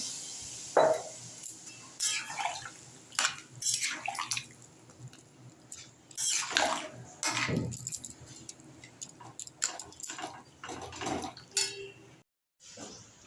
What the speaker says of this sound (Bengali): কষানো হয়ে গেছে, আমি দিয়ে দিলাম জল।